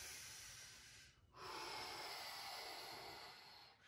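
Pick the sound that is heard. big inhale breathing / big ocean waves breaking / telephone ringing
big inhale breathing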